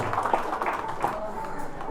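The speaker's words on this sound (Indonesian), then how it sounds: "tepuk tangan untuk kepala suku Kenyam, Elinus" A short burst of clapping and applause from a gathered crowd, honoring the Kenyam tribal chief at a church anniversary celebration in Wamena, steady and fairly close over two seconds.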